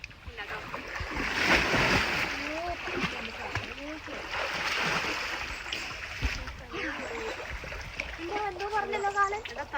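Water splashing and churning as someone swims while bathing, in steady broadband washes, with voices talking over it throughout.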